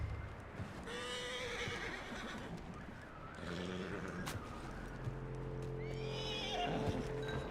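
In Red Dead Redemption 2, a horse whinnies several times, loud and close, its calls rising and falling over clip-clopping hooves, with a sharp snort near the end.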